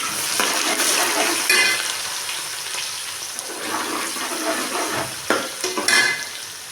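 Two medium onions and fenugreek fry in a pan of oil for a Tamil-style fish curry, giving a steady close sizzle with occasional stirring scrapes and no talking.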